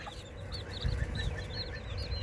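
Young chicks that have been eating slugs give soft, high cheeping and clucking calls, several short chirps scattered over a faint steady background with no talk.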